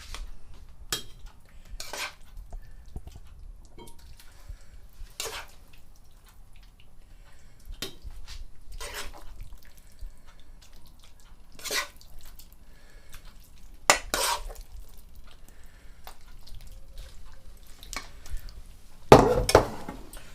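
A spoon clinks and scrapes against deep pasta dishes while red lentil pasta is served, with sparse, irregular sharp taps spread over quiet kitchen background.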